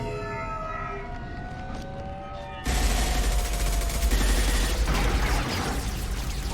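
Sustained gunfire in the Mass Effect 2 video game breaks out suddenly after a tonal, siren-like hum, becoming a dense, continuous loud barrage of shots that holds to the end.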